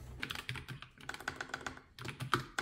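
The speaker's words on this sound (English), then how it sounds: "let's try a type racer." Quick, light clacks come from a NuPhy Air96 mechanical keyboard during a typing race, with uneven bursts of keystrokes and brief pauses. The typing sounds close but fairly soft.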